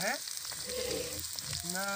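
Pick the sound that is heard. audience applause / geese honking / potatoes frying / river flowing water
potatoes frying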